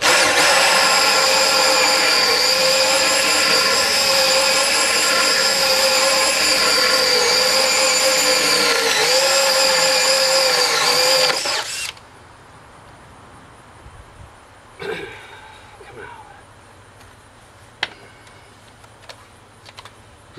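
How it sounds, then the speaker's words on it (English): A power drill bores through a wooden board while a beehive baffle is made: a loud, steady whining drone close by for about eleven seconds, then it stops, leaving quiet handling clicks and a few knocks. "Try to drill it where I can finish it up on the back side"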